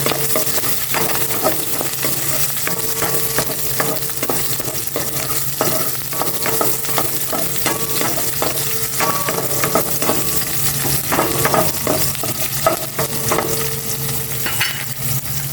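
Onion sizzling and frying in oil in a home kitchen, a steady dense crackle with scattered stirring clinks throughout, close and fairly loud.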